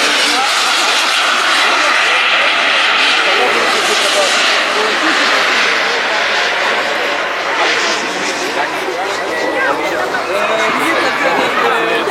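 Radio-controlled model jet aircraft at an RC jet meet in Maubeuge, a loud continuous turbine roar that swells and fades as it flies past, with crowd murmur underneath.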